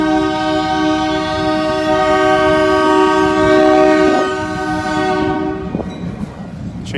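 A train passes close by, its horn sounding a sustained multi-tone blast over the rumble and clatter of rail cars, loud throughout before the horn cuts off and the rolling noise continues.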